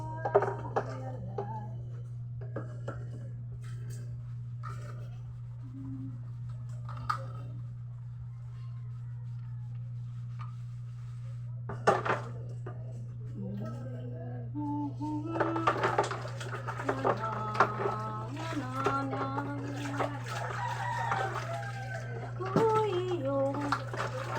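Dishes get washed under steady running water from a tap, with scattered clinks and clatter of plates, while a person talks and hums over the constant background hum.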